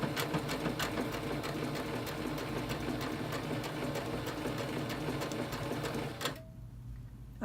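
A sewing machine stitches a buttonhole on a pattern stitch setting, running steadily with a rapid, even needle rhythm at close range, then stopping near the end and leaving a quiet hum.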